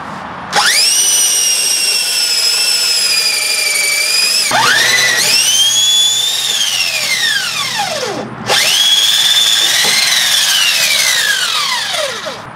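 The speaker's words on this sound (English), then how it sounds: "Bigger drill bit." A power drill whines loudly in three long bursts, its pitch rising as it spins up and sagging as it bites, with brief pauses between runs.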